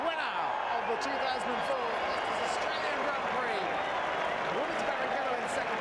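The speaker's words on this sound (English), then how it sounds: "That's the team, of course, applauding the 71st victory." The Ferrari team applauds Schumacher's 71st victory at the 2004 Australian Grand Prix: steady, dense clapping and crowd noise throughout, with a commentator talking over it.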